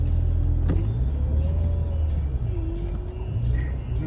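Car cruising south on Interstate 95 from East Haven, Connecticut, toward New Rochelle, New York, with a steady low engine and road rumble and faint passing traffic, heard continuously from inside the car.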